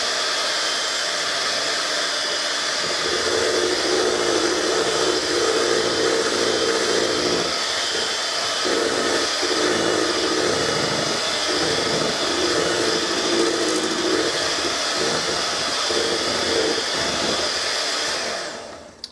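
An electric mixer whirs steadily through vanilla cake batter with flour, a loud continuous motor drone close by that runs for most of the time before cutting off at the end, with no voices.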